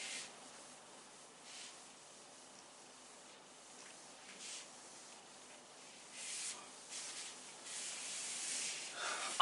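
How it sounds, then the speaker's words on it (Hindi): A board being erased by rubbing during a physics revision lecture, soft scratchy swipes that come in short bursts, faint and close, growing a little louder toward the end. "इसको एक बार रब कर देते हैं"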